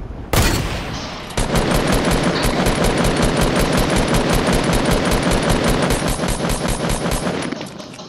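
Rapid automatic gunfire in the Fortnite Battle Royale video game, a sharp initial blast followed by a long, evenly spaced burst of loud close shots that stops abruptly near the end.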